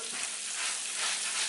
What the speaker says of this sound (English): we get a gentle sizzle